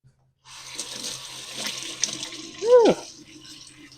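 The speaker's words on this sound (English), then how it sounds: "I gotta rinse my hands again." Tap water runs steadily into a kitchen sink as hands are rinsed, a soft continuous splashing with a brief louder gurgle near the end.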